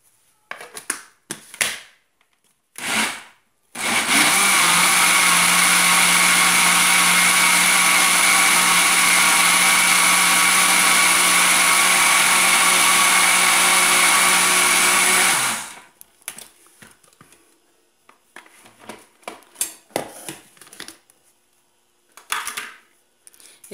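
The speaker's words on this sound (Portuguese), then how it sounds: "Então eu desliguei o liquidificador para não correr o risco de danificar o aparelho. E agora eu vou bater mais um pouquinho." A kitchen blender whirs steadily and loudly for about twelve seconds while mixing a thick powdered-juice dessert, with handling clatter and knocks before and after the run.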